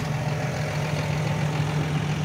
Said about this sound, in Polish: dźwięk silnika tutaj tych szóstek to jest poezja moim zdaniem